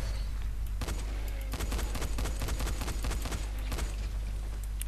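Rapid bursts of video game gunfire in Dying Light, a dense run of sharp loud shots fired in quick succession over a steady low background rumble, with no talking.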